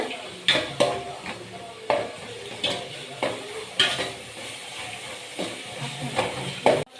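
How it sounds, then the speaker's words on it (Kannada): Chicken fry ingredients sizzling and frying in a pan, with a steady hiss broken by repeated stirring scrapes and clinks of a utensil against the pan, close and moderately loud, no talking. "ಇವಾಗ ಇದನ್ನೆಲ್ಲ ಹಾಕ್ಕೊಂಡು ಉರಿಬೇಕು"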